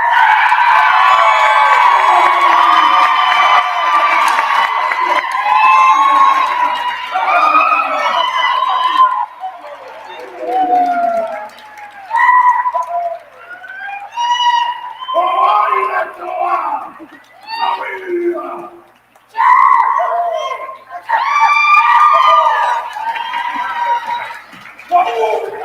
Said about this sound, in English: That's a cheering section.